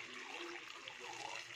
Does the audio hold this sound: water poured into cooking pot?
yes